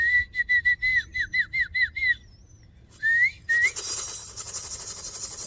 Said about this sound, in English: Here's my whistle.